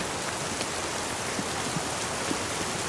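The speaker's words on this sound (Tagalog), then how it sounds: "Ang lakas ng ulan ngayon." Heavy rain pours down steadily, a dense, constant hiss of drops drumming on a surface with no pauses, filling the whole scene at an even loudness.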